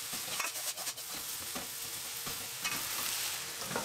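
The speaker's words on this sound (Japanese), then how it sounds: "もやしを一袋投入、塩の浸透圧という謎の化学の力を利用してざっくりと炒めていきましょう" Bean sprouts stir-fried in a frying pan with salt give a steady, close sizzle and crackle, with loose scraping and tossing bursts rising now and then over the hiss.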